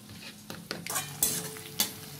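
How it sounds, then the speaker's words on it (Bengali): Tomato sauce whisked together with a splash of water in a bowl, giving a few scattered scraping and clinking strokes, brief and moderately close, with no talking. "এটাকে ভালো করে এবার আমি সব ফেটিয়ে নেবো একসাথে।"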